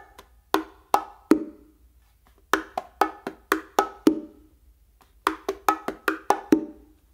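Bongo combination pattern played on the drums, including open tones on the macho; crisp hand strikes in three short phrases separated by pauses, close and alone.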